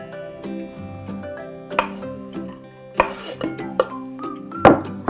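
Knife chopping soft blanched cauliflower on a cutting board, with several distinct sharp taps and scrapes over steady tonal background music.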